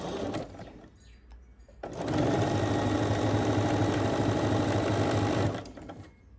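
A sewing machine stitches a quarter-inch seam, its motor humming in a steady rapid run for several seconds after a short start, then stopping.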